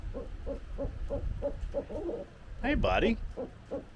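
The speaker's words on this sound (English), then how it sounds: "but this barred owl over here" A barred owl at an aviary hoots in a steady run of evenly spaced calls, fairly close and clear, with a person briefly speaking over the last few hoots.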